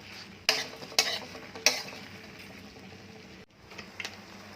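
Shrimp stir-roasted with salt in a pan: a soft, continuous sizzle broken by a few sharp scraping clacks of the spatula against the pan, fairly faint and without speech.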